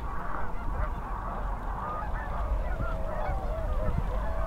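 A huge mixed flock of Canada geese, snow geese, swans and ducks on a lake gives a dense, continuous chorus of overlapping honks from mid-distance.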